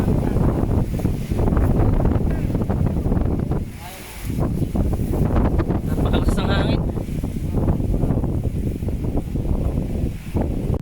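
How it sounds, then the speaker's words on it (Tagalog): Strong wind roars and buffets the microphone almost nonstop on a mountain ridge near the summit of Mt. Tanawan, Bulacan, with a brief lull partway through. "Napakalakas ng hangin!"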